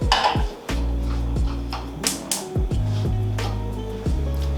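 A pot of butter set on a stove for hollandaise makes several metallic clanks and knocks, sharp ringing hits spaced irregularly against the burner, close and clear.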